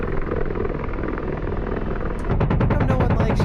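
Rotor thump and engine roar of an Apache attack helicopter on a runway in the combat flight sim DCS World, a steady loud drone that swells with sharper rhythmic blade chopping toward the end.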